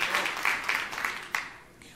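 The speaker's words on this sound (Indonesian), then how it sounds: "Berikan tepuk tangan yang meriah bagi Tuhan." Church congregation applauding during an Indonesian sermon, several bursts of clapping rising and fading over two seconds, moderately loud, trailing off at the end.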